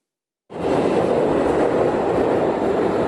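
A London metro train starts up after a moment of silence, then rumbles and rattles loudly and steadily on the rails, close by, with no voices.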